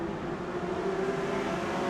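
Modified race cars on a New Zealand circuit give off a steady, distant engine drone that holds at one pitch without clear revving, a continuous track roar.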